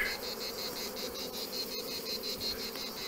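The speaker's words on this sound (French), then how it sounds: "Les abeilles elles deviennent folles." Agitated honeybees swarm around an opened hive, a dense steady buzz with a pulsing high whine, fairly close and continuous.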